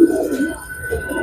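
Low, soft cooing of pigeons repeats in gentle rolling bursts, close by, over a steady faint background hum.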